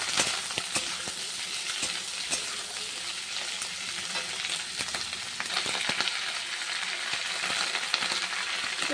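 Chopped onion and capsicum fry steadily in a pan, a dense continuous sizzle with scattered crackles and pops running evenly throughout, close and loud, with no talking.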